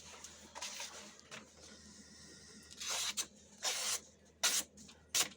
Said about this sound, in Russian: Після 100 різів ріже папір, як і різав.